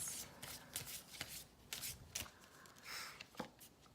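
Tarot cards are shuffled by hand, quiet repeated riffling and slapping bursts close by over about four seconds, with no talking.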